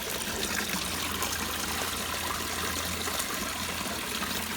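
Water trickling out of a homemade planter bio filter, a steady continuous splashing flow with no pauses and no voices.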